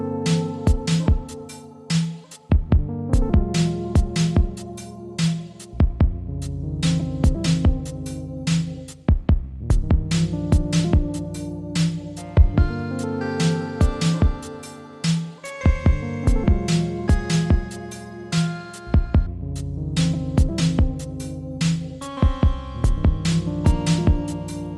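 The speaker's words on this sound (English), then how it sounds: "As always, I like to start with my clean pattern" Clean synth pattern played on an OP-1 Field, a steady looping sequence of plucked notes over a low bass line, rhythmic and continuous with no voices.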